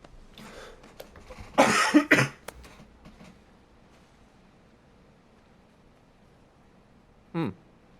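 A person coughs twice in quick succession, loud and close, followed after a long quiet gap by a short low grunt or throat sound.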